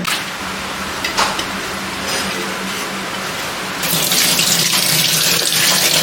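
Tap water runs to fill a container for watering a money plant, a steady hiss that grows louder and brighter partway through as the stream strikes differently, continuous with no speech.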